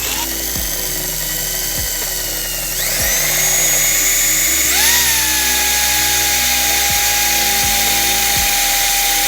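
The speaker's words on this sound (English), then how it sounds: "I'm going to take a small drill bit and go through slow so I don't hit any wires on the other side" A small drill bit bores slowly through the body panel of a Honda Integra, making a continuous close, loud high-pitched whine that steps up in speed twice without pausing.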